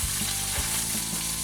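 Beef frying in oil and butter with garlic and rosemary produces a loud, dense, close sizzle that stays steady across the short stretch, with faint stirring touches.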